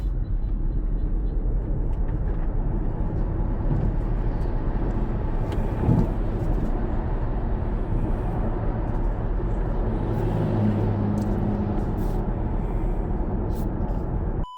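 BYD Yuan Plus 2027 electric car accelerating hard, a steady broadband rumble of road and wind noise rising and holding loud and close throughout, with no engine note.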